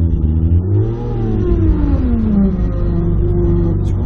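A Toyota Supra engine idles and revs with a loud, close, droning rumble, and a whining, faulty power steering pump rises and falls in pitch over it without any talking.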